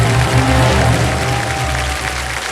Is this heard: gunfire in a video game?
no